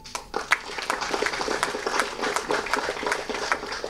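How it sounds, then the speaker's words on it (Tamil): An audience at a Tamil film press meet claps, a brisk stream of distinct sharp claps with a few louder ones standing out, moderately close and steady without speech over it. "இந்த அரங்கமே அதிர்ற மாதிரி நல்லா கைத்தட்டு"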